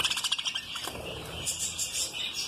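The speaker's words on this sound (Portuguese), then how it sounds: "esse filhote aqui é filho de uma fêmea de periquito que eu comprei aqui, é o Fábio." Parakeets chirp at an exotic bird breeding aviary, a rapid run of bright, high tweets at the start, then scattered fainter calls overlapping with background birdsong.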